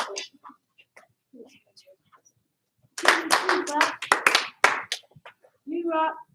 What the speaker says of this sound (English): Give Kyber 1 clap.